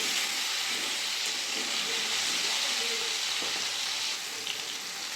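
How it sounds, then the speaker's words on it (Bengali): Potato and pumpkin pieces fry in a pan with a loud, continuous oily sizzle and hiss, broken by faint scraping as they are stirred. "ভালো করে আলুটা কুমড়োটা ভেজে নেব"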